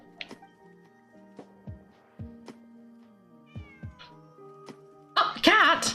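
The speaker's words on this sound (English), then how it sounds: "Oh, a cat! Meow." A cat in the video game Genshin Impact lets out a loud, wavering meow at the end. Before it, sparse plucked musical notes and soft ticks sound over near-silence.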